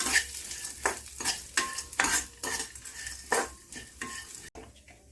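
Sunflower and pumpkin seeds fry and sizzle in a pan for dry fruit laddus as a utensil stirs them in repeated scraping strokes, close and steady, with no talking.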